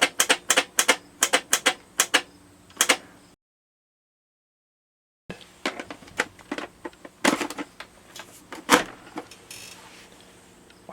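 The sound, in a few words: Weltron 2001 Spaceball light switch being worked to clean it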